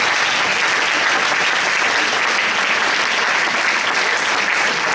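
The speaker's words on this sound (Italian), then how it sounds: "noi vogliamo darle un segno del nostro affetto con un applauso a Stefania." Sustained congregation applause in a church, a thick, even wash of many hands clapping at constant loudness for the whole stretch, with no talking over it.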